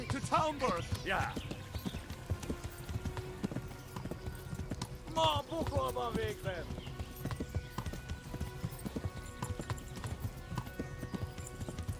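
A horse gallops in Kingdom Come: Deliverance, a steady run of close hoofbeats with a few whinnies, while someone talks over the game sound.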